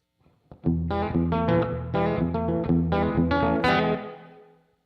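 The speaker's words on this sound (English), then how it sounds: "Let's put a little plate reverb on that." A distorted electric guitar plays a run of chords and notes drenched in bright plate reverb, ringing out as the last chord fades.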